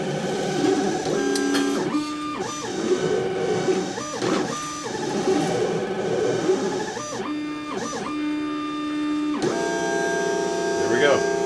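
A Vinyl Express cutter plotter, driven by a 16-year-old laptop, whirs and steps as it cuts vinyl, its motor tones rising and dropping in repeated short movements alongside mechanical clicks, with people talking over it.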